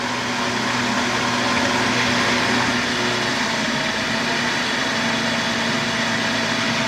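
A ResiBoost packaged variable frequency pump system running again after the pressure drops to 54 psi, working to hold a constant 60 psi: a steady, fairly loud mechanical hum that stays even throughout with no pauses.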